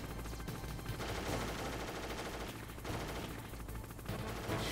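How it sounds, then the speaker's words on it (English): Heavy gunfire in Metal Gear Solid: dense automatic bursts rattle and pound almost without pause, loud and close, with brief dips between volleys and no voices. "Shooting a lot."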